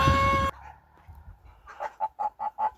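Five short nasal honks from an old goose in an even rhythm, fairly close, following a brief burst of louder noise at the start.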